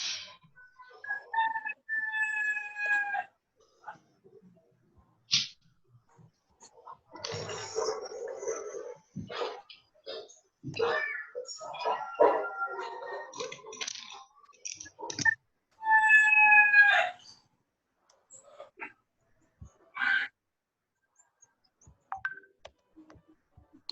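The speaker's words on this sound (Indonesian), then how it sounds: "hanya bunyi ayam saja ini" Chickens in the background of an online workshop call give short repeated clucks and calls in bursts, moderately near, separated by quiet gaps, with no talk over them.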